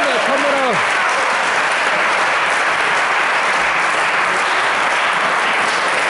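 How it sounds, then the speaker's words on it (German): An audience at an indoor clickball match applauds steadily and loudly, a dense wash of clapping that persists throughout after a brief voice at the start. "Wir sehen, wie das Publikum hier reagiert."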